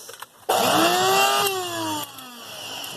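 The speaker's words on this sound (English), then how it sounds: "we'll put some of that in there and grind it up a little bit" Electric grinder whirring as it spins up and chews through leafy bean plant material, a loud steady motor whine with a pitch that sags and rises while the cut greens tumble inside.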